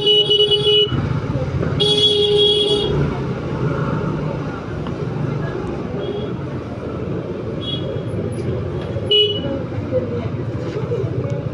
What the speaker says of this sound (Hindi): यहाँ पे ट्रैफिक हो जाता है।